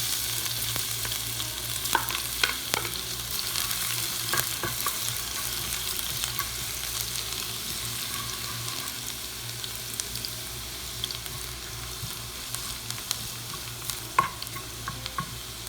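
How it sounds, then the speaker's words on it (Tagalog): Garlic frying in hot oil in a pan for a sardine and bitter melon leaf dish, a steady close sizzle with scattered pops and occasional clinks of stirring, with no talk. "Mainit na yung mantika natin. Lagyan na natin yung bawang."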